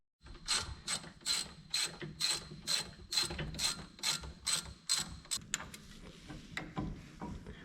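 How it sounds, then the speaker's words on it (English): A ratchet tightens brake caliper bolts, giving a close, steady series of about fifteen clicking strokes in an even rhythm that ends with a few quicker clicks, with no speech. "I was tightening the caliper bolts up."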